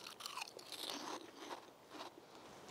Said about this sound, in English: Nudie Snacks Cauliflower Crisps, cheese and caramelized onion.